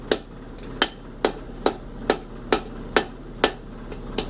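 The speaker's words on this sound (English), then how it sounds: "We're gonna take this metal right here, take it, hammer it out." Metal hammer blows striking a heated railroad spike on an anvil, flattening it while forging a tomahawk head; nine sharp, evenly spaced ringing strikes about half a second apart, close and loud over a low steady hum.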